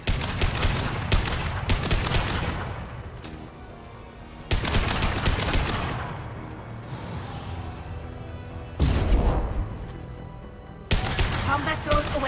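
Heavy video game gunfire booms in repeated loud bursts, each volley ringing out and decaying before the next salvo hits, with a few rapid machine-gun-like rattles along the way.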